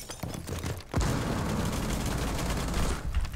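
Rapid gunfire in a one-on-one video game match, a dense sustained burst of loud shots after a few separate cracks.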